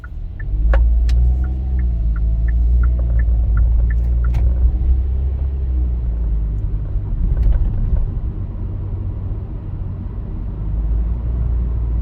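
Hyundai Casper with a three-cylinder MPI engine driving on the road, a steady low engine drone and road rumble throughout, with faint clicking ticks early on.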